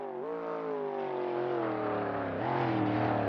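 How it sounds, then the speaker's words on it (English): A Cobra race car's V8 engine roars steady and strong on a straight, its tone dipping briefly then climbing again as revs shift, with no voices over it. "listen to that roaring V8"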